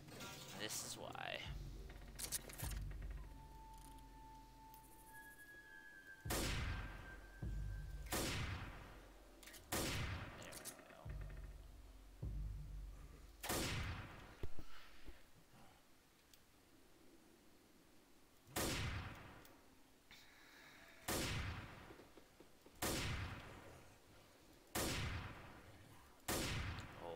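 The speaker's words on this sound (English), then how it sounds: "we're switching to the hunting rifle" Hunting rifle shots from the zombie video game Left 4 Dead crack out as loud, sharp reports at irregular intervals, roughly a dozen in all, with game noise and some talking in between.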